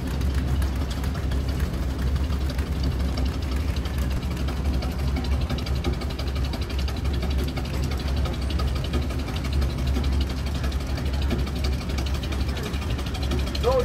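A 1928 Hart-Parr 28-50 antique plowing tractor engine runs steadily at close range, its continuous low mechanical rumble and idle-like throb filling the whole stretch with no pauses.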